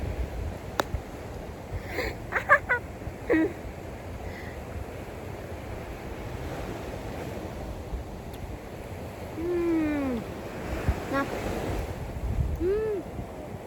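Sea waves wash steadily along an Indonesian coast, a continuous surf rush with wind buffeting the microphone and a few faint, sharp knocks and distant tonal calls over the top, with no talk.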